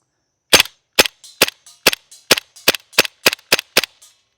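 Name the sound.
gunshots fired at range to test solar dot sight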